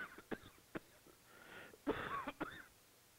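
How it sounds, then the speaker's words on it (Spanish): A sick tuberculosis patient coughs and clears his throat at night, with short, faint, scattered hacks followed by a longer rasping cough burst, heard alone without talk. "El enfermo tose durante la noche."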